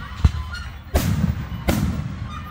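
Three distant booms from a Fourth of July fireworks show thud out at irregular intervals, each a sharp low blast followed by a rumbling tail.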